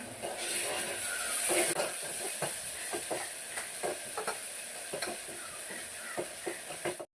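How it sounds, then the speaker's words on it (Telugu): Ginger garlic paste frying in a pan for a country chicken curry, a steady soft sizzle and hiss with scattered stirring scrapes and clicks throughout. "అల్లం వెల్లుల్లి పేస్ట్ పచ్చివాసన పోయేంత వరకు ఫ్రై చేసుకోవాలి"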